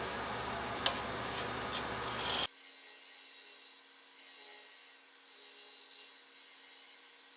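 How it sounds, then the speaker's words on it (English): A Pinnacle scraper cuts across a turned magnolia wood bowl, giving a rough, steady scraping hiss with small ticks for about two seconds before it cuts off to a quiet, low background hum. "I do have this Pinnacle scraper I got a while back, picked up in a yard sale."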